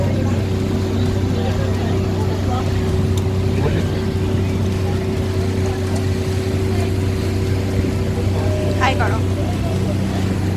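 A speedboat engine drones loud and constant on a ride toward Grand River waterfall in Mauritius, hull and wind noise filling the background while people talk and call out over it.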